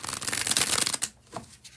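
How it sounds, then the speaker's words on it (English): Tarot card deck riffled in a bridge shuffle, a dense crisp ripping flutter for about a second, then a few softer taps as the cards settle, close and alone. "when I do the bridge shuffle"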